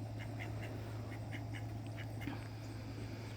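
Ducks quack in short, repeated bursts, faint and somewhat distant, over a steady low hum, with no voices.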